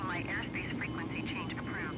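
A low, droning airplane engine hums steadily as the aircraft climbs after takeoff in Microsoft Flight Simulator during heavy rain, with someone talking over it throughout.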